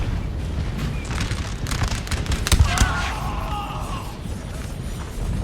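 Musket volleys crackle in a Napoleonic-era battle from Napoleon: Total War, a dense burst of shots peaking mid-clip with a couple of sharp cracks over a constant rumbling battlefield din.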